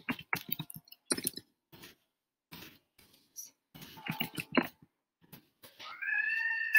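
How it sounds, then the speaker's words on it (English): A cat meows near the end, a drawn-out tonal call after several short clicks and taps. "My cat's meowing."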